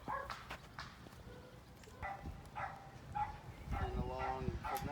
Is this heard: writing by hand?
no